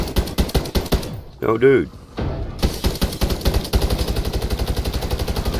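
Rapid automatic gunfire in MWIII Zombies, a steady close stream of shots filling most of the clip, briefly broken by a short spoken exclamation.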